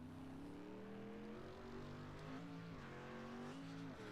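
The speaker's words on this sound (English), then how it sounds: "Here comes Skinzalewski's car out" A street stock race car pulls out onto a speedway track, its engine droning loud and steady with shifting revs throughout, close and continuous, no voices.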